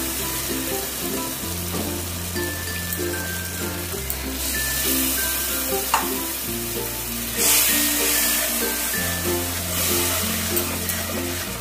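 A paste of ground cashew, raisin and poppy seed stirred into spiced masala for shahi paneer, sizzling steadily in a pan with soft scraping and stirring, alongside a constant low hum.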